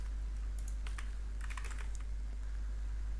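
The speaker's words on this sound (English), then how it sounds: "click on search and type create" Keys clatter on a computer keyboard in quick, light bursts with short pauses while someone types on a Windows 11 PC, faint and close, over a low steady hum.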